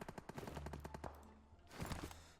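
Rapid automatic gunfire in PUBG Mobile, two bursts of dense, loud shots with a brief lull between them, close and sharp.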